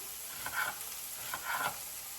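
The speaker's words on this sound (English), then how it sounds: "we do want to cook the onions and the garlic together" Onions and garlic sizzling in a pan while cooking chicken chow mein, a steady crackling fry with two brief bursts of louder stirring or hissing, close and with no talk.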